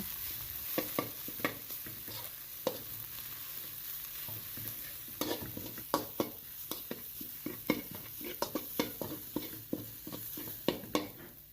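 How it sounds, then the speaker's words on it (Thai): Pounded curry paste is stir-fried in oil in a pan, a steady sizzle broken by frequent sharp scrapes and clacks of a spatula stirring at an uneven rhythm, close and clear with no talk. "ใส่น้ำมัน ตามด้วยเครื่องแกงที่เราตำไว้ ผัดพริกแกงให้ส่งกลิ่นหอม"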